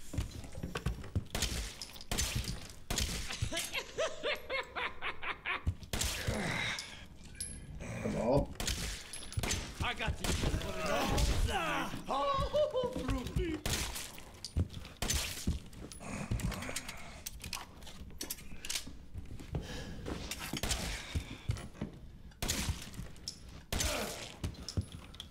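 Repeated sharp gunshots crack through Resident Evil 7 horror gameplay, a long irregular series of loud bangs mixed with clattering hits and a voice talking between them.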